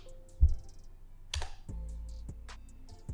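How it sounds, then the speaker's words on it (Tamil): A computer keyboard being typed on, with sparse, irregular key clicks and a few louder taps spread across a few seconds in a quiet room. "திரும்பி டைப் பண்ணுறேன்,"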